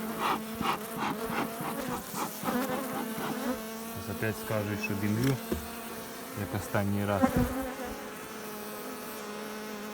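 Dense, steady buzzing of many Polesian honey bees close by at a log hive, with someone speaking over the swarm's drone throughout.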